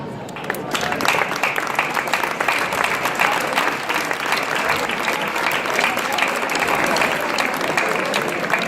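Outdoor crowd in Agramunt giving loud, sustained applause at the presentation of a new giant figure, a thick, continuous roar of many hands clapping for several seconds with some voices mixed in.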